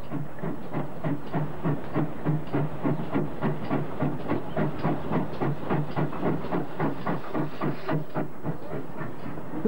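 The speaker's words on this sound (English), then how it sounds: "a little steam engine is shunting the carriages, which will make up the first train of the day on the South Devon Railway" A small steam engine shunts carriages on the South Devon Railway, with rhythmic, evenly spaced chuffs under a soft background hiss. The sound is faint to moderate and holds a steady pace throughout.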